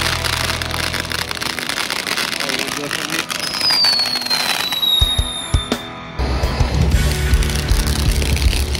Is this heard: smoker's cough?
no